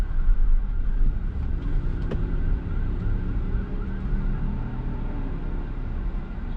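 A police car siren wails through road noise heard from inside a moving car, fairly faint and steady, with the tone sweeping over several seconds.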